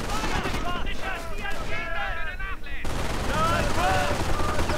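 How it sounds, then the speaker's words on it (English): Sustained bursts of heavy machine gun fire in a real-time strategy war game, rapid and loud, layered with other gunfire and battle noise and a commentator talking over it throughout. "Heavy machine gun taking up position right there in the building"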